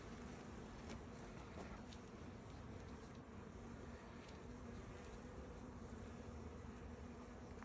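Honey bees buzzing densely around open beehives during a hive inspection, a steady, close, continuous drone with no pauses and no talking.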